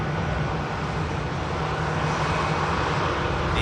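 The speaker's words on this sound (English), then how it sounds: "EasyJet from Palma, the standard 320. Did just see the 320 on touchdown" EasyJet Airbus A320 from Palma landing at Manchester Airport, a loud continuous jet engine roar with a steady low hum, close and unbroken for the few seconds heard.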